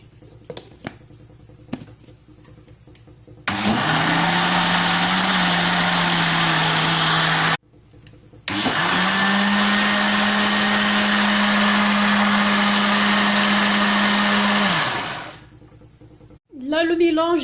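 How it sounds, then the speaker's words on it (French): An electric mixer whirs through apple cake batter with added baking powder and vanilla sugar, running steadily for about four seconds, briefly stopping, then resuming for roughly seven more seconds before winding down, with a person speaking around it. "Voilà, et je mixe bien."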